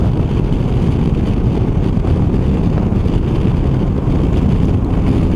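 Steady loud wind rush buffets a rider on a Yamaha Tenere 700 adventure motorcycle, a dense continuous roar with no gaps and no talking.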